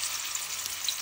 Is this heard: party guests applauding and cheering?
no